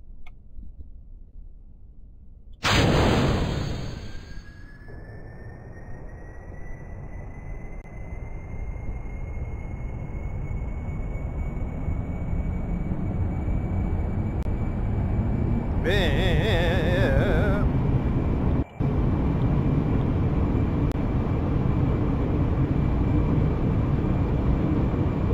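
A spacecraft engine in Kerbal Space Program starts abruptly, then holds a loud, steady roar that slowly swells, with a faint tonal whine and a short burst of chirping sounds partway through.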